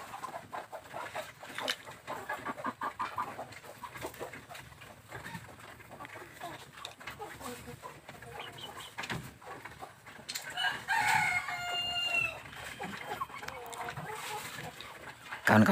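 Chickens in a farm coop cluck and mutter continuously, with a rooster crowing partway through, all at moderate distance amid general barnyard noise.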